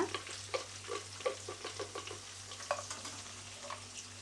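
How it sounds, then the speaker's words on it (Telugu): Green chillies, onions and seasoning frying in a pan for carrot tempered rice, a soft steady sizzle broken by frequent light scrapes and taps of a spatula stirring. "ఇప్పుడైతే అన్నీ ఇలా బాగా ఫ్రై చేసుకోవాలి ఫ్రెండ్స్"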